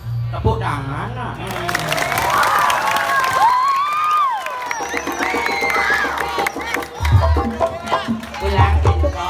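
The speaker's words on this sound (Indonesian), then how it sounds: "Tepuk tangan nak." Audience at a Balinese Calonarang joged performance at Pura Samuan Tiga claps and cheers, a loud crowd roar with shouts and whoops mixed with a voice on a sound system.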